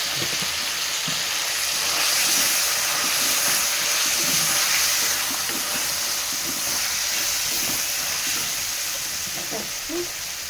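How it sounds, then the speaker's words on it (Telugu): Cut potatoes sautéing in oil with turmeric make a soft, continuous sizzle close by, with light scrapes and stirring clicks scattered throughout, fairly quiet and with no talking. "జర మగ్గాలి, నూనెలో మగ్గాలి"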